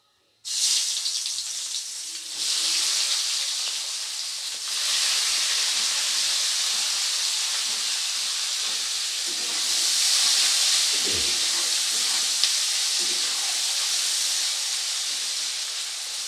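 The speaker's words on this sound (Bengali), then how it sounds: "পেঁয়াজটাকে বাদামি করে ভেজে নেব।" Chopped onion fries in hot oil after the tempering spices, giving a loud, steady hissing sizzle that starts suddenly and carries on throughout, with a few faint stirring knocks.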